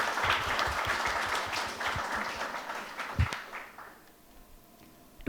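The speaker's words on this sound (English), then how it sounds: "Can we have a round of applause for the new batch and the successful completion of Prabandhan?" An audience at a PGDM batch inauguration event applauds the new batch, a burst of clapping from a crowded room that swells, then tapers off and fades to near silence.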